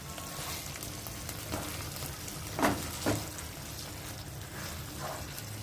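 Potatoes with masala cook in a pan with a soft, steady sizzle, and two brief stirring scrapes stand out midway.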